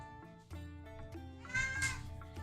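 Faint indoor meowing from a house cat in a room, a soft drawn-out cry rising near the end against a quiet background hum, with no one speaking.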